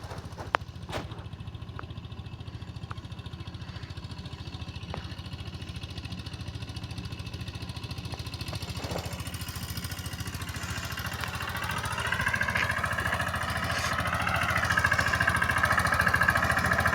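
A tractor runs in a farm field during chickpea sowing, its diesel engine a continuous low throbbing drone close by that grows slightly louder toward the end, with a few faint knocks and no speech.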